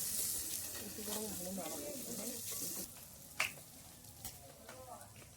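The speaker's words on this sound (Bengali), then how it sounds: "মশলাটা কষা কষা হয়ে গেছে, দেখুন তেল ছেড়ে ছেড়ে এসছে" Spice masala cooking down in oil in a pan for chicken ghugni, sizzling softly and steadily, with a few light stirring scrapes, faint and without talk.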